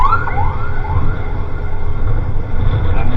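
An ambulance siren wails faintly in the distance over a loud, steady rumble of nearby city traffic and engine noise in Bandung, Indonesia.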